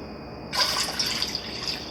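Water poured into a container of bacon brine for curing bacon and ham, a steady close splashing and trickling pour that starts abruptly and continues without talk.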